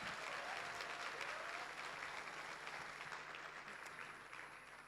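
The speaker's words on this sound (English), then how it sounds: "Let's give them a collective round of applause." Audience applause at a Citizens of the Year 2025 awards ceremony: a dense, steady wash of many hands clapping together, heard from a distance and fairly soft, fading slightly toward the end.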